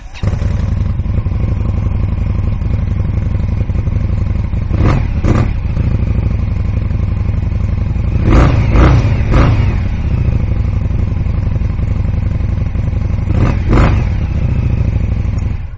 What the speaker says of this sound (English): I am going to take the opportunity right now to go ahead and fire this bike up for you.